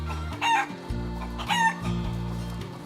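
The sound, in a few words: chickens clucking and rooster crowing at a chicken coop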